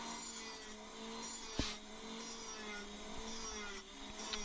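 A Dremel sanding drum grinds fiberglass off a BGA chip, making a quiet, steady, high rasping whine with a faint motor tone. There are a couple of brief clicks along the way and no talking.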